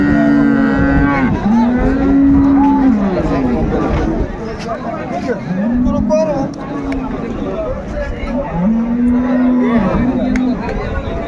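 Dairy cows and calves low repeatedly at the Ambari cattle market in Dinajpur, loud close moos recurring every few seconds over a busy murmur of traders talking.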